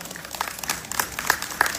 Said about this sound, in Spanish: Adelante, Yanela, aplauso para ella.